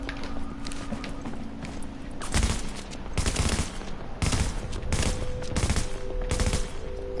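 Bursts of gunfire crack out in The Division, several loud volleys spaced over a few seconds above a steady ambient hum, with sniper fire among the shots.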